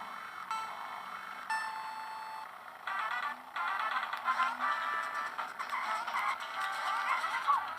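Engine whine and tire screeches from a retro racing video game played on a mini GBA handheld console, with rising electronic tones and repeated skids over a steady game soundtrack.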